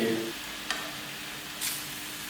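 Chicken vegetable rolls frying in oil over medium heat give a steady close sizzle with brief stirring scrapes, fairly quiet throughout.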